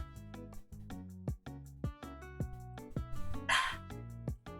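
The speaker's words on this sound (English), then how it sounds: "Sorry for my dog." A dog barks repeatedly at close range, a rapid series of sharp yips and barks in a steady rhythm, with a brief hissing noise partway through.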